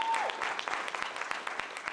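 An audience claps in a brief burst of steady, fairly close applause, many hands patting together at an even rhythm right after a short tone.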